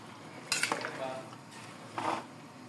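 Cabbage being stirred in a pan for pancit canton, with two short bursts of metal utensil scraping and clinking against cookware over a faint low sizzle, fairly close.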